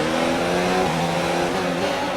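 An F1 race car in a video game revs hard in Baku, a loud, continuous high-pitched engine whine with shifting pitch and no talking over it.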